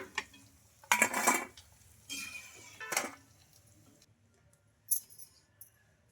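Crispy fried leftover-rice kurkure being lifted from a pan onto a plate: a few sharp clinks and scraping rattles of utensil against metal in short bursts, separated by near silence.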